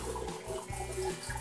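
Toilet cistern refilling through a newly fitted float valve, a steady close rush and hiss of inflowing water with low gurgling pulses, continuous for the whole stretch with no voices.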